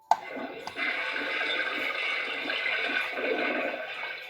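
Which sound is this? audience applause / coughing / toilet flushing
toilet flushing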